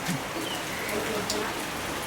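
Heavy rain mixed with hail pours down during a storm over a house under roof replacement, a dense, steady hiss of drops hitting surfaces nearby, with no one talking.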